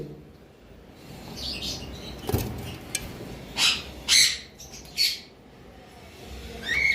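Lovebirds at a bird seller's shop give a few sharp squawks and chirps, spaced out and moderately close, over a steady low background hum.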